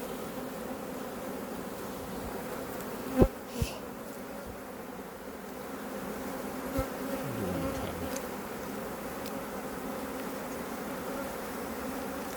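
Honey bees buzz in a steady, low drone throughout, with a few louder passes of individual bees flying close by.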